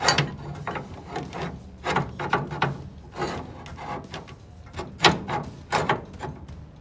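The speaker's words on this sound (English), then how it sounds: "got the spring compressor and we're gonna compress the spring a bit so that we can yank and get this bad boy out" Spring compressor being worked on a coilover spring on a 1962 Mercury Meteor, giving faint, irregular ratcheting clicks and metallic rubbing at an uneven rhythm throughout.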